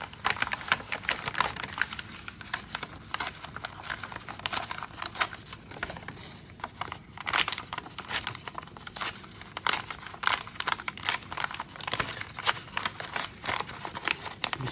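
Crinkly paper handled and shuffled for a junk journal, a steady stream of close, dry rustling and crackling with sharp taps throughout, no voices.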